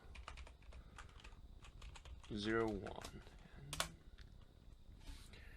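Rapid bursts of computer keyboard keystrokes as a router password command is typed, quiet and close, with a short murmured voice midway and a faint click afterward.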